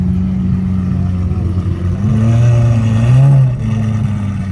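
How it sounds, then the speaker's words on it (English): A Lamborghini SVJ supercar with a small aftermarket exhaust at a Goodwood breakfast meet, its engine revving hard and rising to a loud, wailing peak before settling back to a steady, throaty idle nearby. "SVJ with probably a tiny exhaust on it, sounding absolutely mental."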